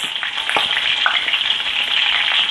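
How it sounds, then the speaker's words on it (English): A pork roast sears in a hot pan for pork and beans, giving a loud, dense, unbroken sizzle with a few crackling pops, close up and alone. "I am going to sear my roast, my pork roast, on all sides"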